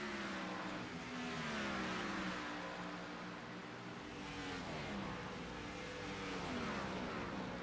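The number 20 Home Depot race car, a league racing machine, roars past with a loud sustained engine note that rises and falls as it passes, alone without talk.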